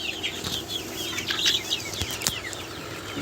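A native rooster, weighed at about 400 grams, gives short clucks with bursts of wing flapping. The sounds are close and moderately loud, with no talking.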